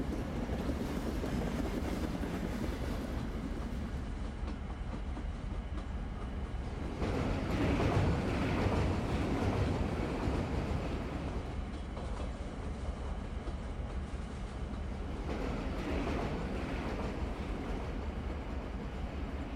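A small toy train on the Kalka–Shimla mountain railway rumbles steadily along the rails with a continuous rolling roar, swelling louder for a few seconds in the middle.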